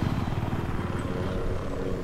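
Helicopter in the PC video game Battlefield 3: a steady, loud rotor drone with rhythmic chopping, continuous and alone throughout.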